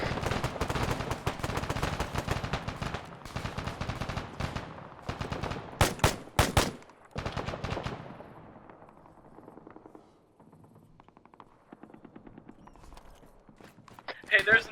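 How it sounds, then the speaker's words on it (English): Rapid gunfire from an anti-aircraft gun in the Arma 3 military shooter, with dense bursts of loud shots and heavy booms through the first half, fading to scattered distant cracks, then a final loud burst; voices talk underneath. "there's an AA gun somewhere in here that just lit me the hell up"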